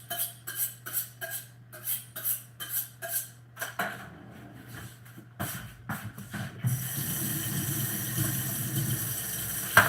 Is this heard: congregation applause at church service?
no